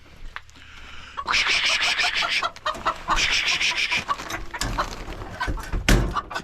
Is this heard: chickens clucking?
yes